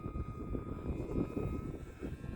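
An E-flite UMX Pitts S-1S micro RC biplane flies on a 3S battery, its electric motor giving a steady, moderately loud drone with gentle swells as it banks into the wind.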